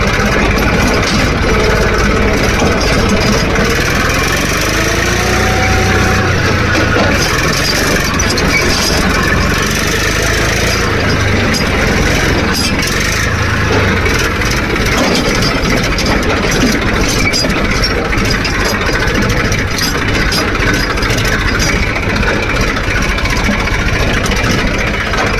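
A tractor engine idles steadily on a farm, a continuous low rumble that stays loud and unbroken throughout, with faint outdoor background noise.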